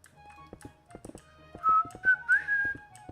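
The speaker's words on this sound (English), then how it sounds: "I probably shouldn't whistle." A person whistles a short melodic tune, the notes clear and fairly loud, rising and sliding over steady background taps and faint clicking, with no talking.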